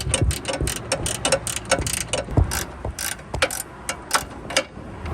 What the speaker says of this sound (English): I'm actually going to be using this 14mm ratcheting wrench to go all the way down here.